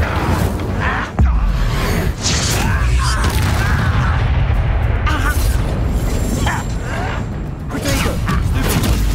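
Incendio fire spell in Hogwarts Legacy, a loud, roaring burst of fire with booming, whooshing blasts and rumbling mechanical noise that holds steady for several seconds amid ongoing combat.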